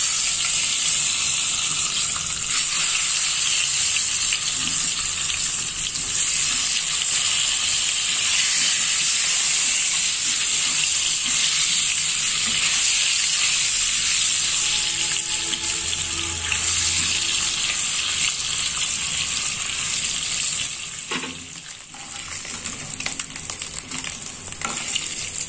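Hot oil with turmeric and a pinch of salt fries in a pan, giving a loud, steady, close sizzling hiss that runs without a break before briefly dipping and resuming near the end.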